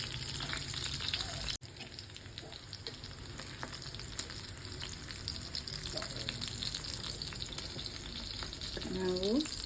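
Anjal fish fries in a pan, producing a continuous, dense sizzle with faint crackles and one sharp click near the start, with no talk.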